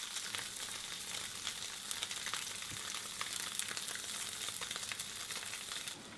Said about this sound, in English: you're going to place your steak into the pan, and you're just going to leave it